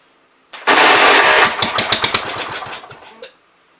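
A 1973 John Deere 110 lawn tractor engine, flooded and running on carb cleaner, bursts to life with a loud roar, then stumbles in uneven sputtering pulses for about three seconds before cutting out.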